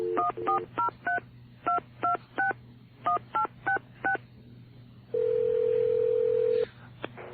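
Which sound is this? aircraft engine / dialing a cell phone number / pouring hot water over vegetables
dialing a cell phone number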